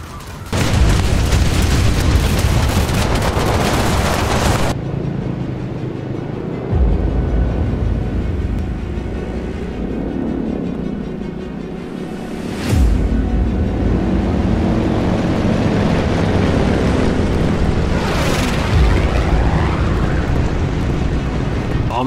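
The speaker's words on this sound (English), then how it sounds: "Bombers coming in hot and ready as they line up their drops, while anti-air has already been continually firing what they can to reach the approaching wave" Video-game WW2 battle with bombers and anti-aircraft guns: loud, dense booming and roaring throughout, with a burst of heavy blasts early on, then sustained rumbling engine-like drone and repeated sharp impacts and crackles.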